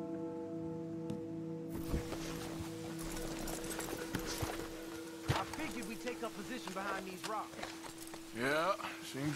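Hooves from several horses plod and clatter in Red Dead Redemption 2, an uneven rhythm of close hoofbeats beneath a steady musical drone.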